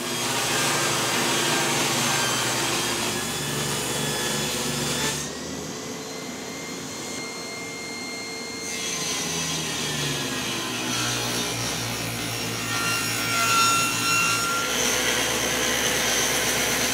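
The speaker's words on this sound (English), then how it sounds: "I'm going to make my own by cutting down a piece of 1/2 inch." A power saw cuts down a piece of 1/2 inch plywood, a loud continuous whining roar that eases to a lower hum midway and then rises again, running steadily throughout with no talk.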